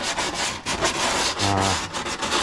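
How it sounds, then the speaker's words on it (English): Light hand sanding over freshly deburred holes drilled for a snorkel install on a Ford Ranger PX Bi-Turbo, a steady rubbing scrape with quick back-and-forth strokes, close and fairly loud, with no talking. "now I'm just giving them a light sand"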